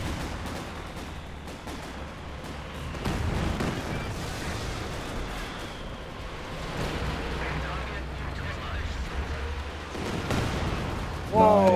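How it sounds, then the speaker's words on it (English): Artillery shells rain down in a 4v4 Company of Heroes match on the Port of Hamburg map, a dense, rumbling barrage of overlapping booms that swells in repeated waves. "I'm calling in artillery."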